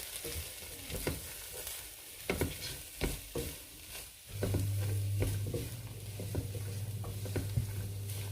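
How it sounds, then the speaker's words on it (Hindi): Salt, red chili powder, garam masala and turmeric being stirred into lentil soup in a pan: a spoon scrapes and knocks in scattered strokes, then a steady low sizzle and hum carries on beneath continued stirring. "अब इनको अच्छे से मैं मिक्स करूँगी।"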